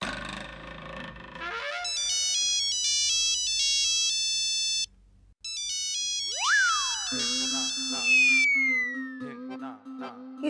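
Phone ringtone playing as an electronic melody of bright beeping tones, a short phrase repeated after a brief pause, with rising chirps and a lower tone layered near the end, indoors in a Hindi TV serial scene.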